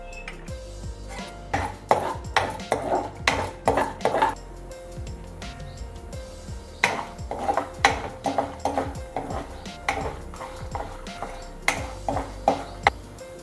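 Peanuts and dals fry in oil in a pan for mango pulihora while a metal spoon stirs them, producing rapid, rhythmic clinks and scrapes in bursts with short pauses.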